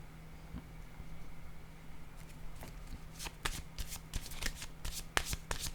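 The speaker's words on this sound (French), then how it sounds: "Je vais déposer une carte sur espoir." Fortune-telling cards are handled and set down on a table, a few soft slaps and flicks growing busier toward the end, close and quiet with no talk.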